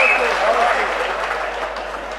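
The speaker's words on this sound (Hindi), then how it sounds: "जोरदार तालियां मांगता है" Audience clapping at an All India Mushaira poetry gathering in Bhiwandi, a loud burst of applause that thins slightly toward the end, mixed with a speaking voice.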